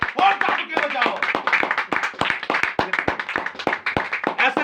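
A congregation claps hands at a church gathering, a dense, close run of sharp claps in an uneven, lively rhythm that continues throughout, with a voice heard faintly in the mix.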